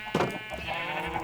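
Sheep bleat in a farming video game, with one loud bleat near the start followed by softer bleating calls, clear and close.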